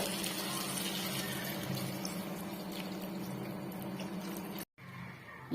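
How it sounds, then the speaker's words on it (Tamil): Water poured into dissolved masala and tamarind while cooking okra curry, a steady gushing, splashing stream that runs for several seconds before cutting off briefly, close and loud without talk. "இப்போ நம்ம மசாலா, புளி எல்லாம் கரைச்சி வச்சா தண்ணி ஊற்றணும்."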